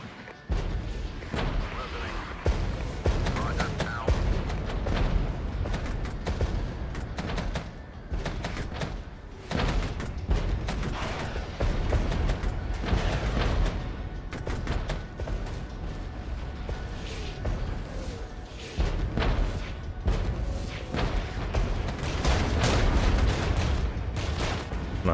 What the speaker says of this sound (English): it might just be worth running in with an A10 gun run